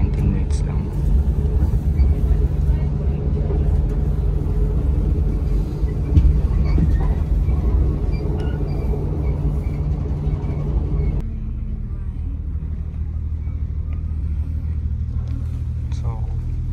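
Steady low rumble and broadband noise from inside a moving regional train on the way to Kandel, Germany, continuous throughout with a drop in level near the end, and a person talking over it.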